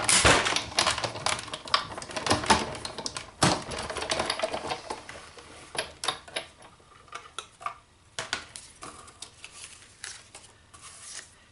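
A manual die cutting machine rolls material through in a craft room, giving a run of close, dry clicking and ratcheting taps that thin out into sparser, irregular clicks toward the end.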